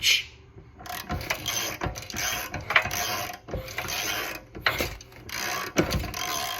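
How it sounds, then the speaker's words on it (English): A small go-kart engine with its spark plug removed being turned over by hand, with repeated rhythmic mechanical clunks and puffs of compressed air blowing back, close and fairly loud. "turn the engine over, and you should feel it go and blow back"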